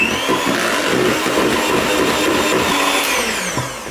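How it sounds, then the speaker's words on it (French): A machine whisk beats a liquid flour batter with a constant, loud, dense whirring that holds steady and fades slightly at the end. "une fois que la farine est bien intégrée au mélange liquide, je vais pouvoir donc fouetter pendant environ 30 secondes"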